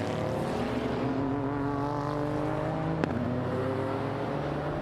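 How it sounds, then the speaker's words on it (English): A Maezawa Racing Ferrari 488 GT race car on a qualifying lap at Okayama, its engine a loud, steady onboard drone with a brief shift-like break in the middle before it pulls on. "let's do a full lap in the Maezawa Racing Ferrari 488 with Naoki"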